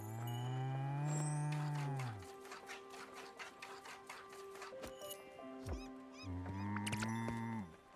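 Cartoonish cow moos from the Spiritfarer video game, heard as a couple of long, drawn-out lowing calls near the start and end, loud and close, with game music and effects between them and no talking.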